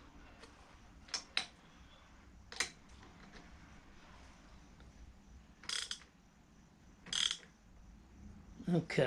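A mirror mount on a 2018 Harley-Davidson Sport Glide FLSB is tightened, giving a few sparse, sharp mechanical clicks and ratchet-like ticks spread across a quiet background, with a brief spoken word.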